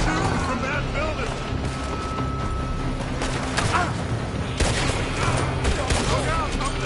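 Gunfire in the Red Dead Redemption 2 video game, a dense fusillade of shots from a building, continuous and fairly loud, mixed with game voices and ambient noise throughout.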